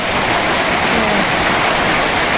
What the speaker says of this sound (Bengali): দেখো বন্ধুরা কিভাবে বৃষ্টি পড়ছে